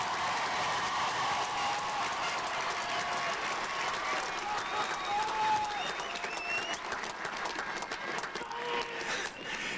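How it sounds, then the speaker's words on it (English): An audience at a high school commencement ceremony applauds graduating students, sustained dense clapping with a few cheers and whistles rising through it, continuing for about ten seconds. "Let's give these students a big old round of applause before we get started"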